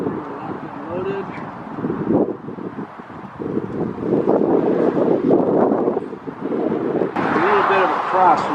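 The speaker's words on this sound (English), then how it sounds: "A little bit of a crosswind here." A crosswind gusts across an outdoor rifle range during M&P 10 target practice, a loud, steady rumbling buffet against the microphone that swells and eases, with voices talking beneath it.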